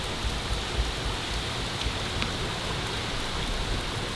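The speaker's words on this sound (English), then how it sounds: "And it's raining out." Steady rain hisses down outdoors on a summer day, a dense, even wash of drops with occasional louder patters nearby and no talking.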